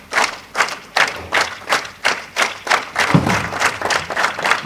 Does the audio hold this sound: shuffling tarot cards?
no